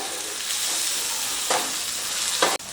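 Chopped onion, tomato, ginger-garlic and green chilli paste frying for a street-style egg dish, a loud, steady close sizzle with two sharp stirring scrapes.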